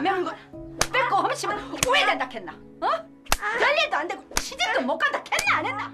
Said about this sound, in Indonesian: Akibat pukulan yang cukup keras, kaki Jungmin pun sedikit mengalami luka-luk